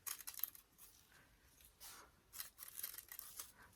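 Scissors snip through paper carnation petals in a quiet room, a series of faint, crisp cutting strokes arriving in uneven clusters.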